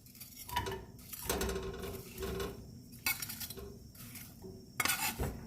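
Onions going into hot oil in a large pan over medium-high heat: bursts of sizzling hiss broken by clinks and scrapes of utensils against the pan, loud and close.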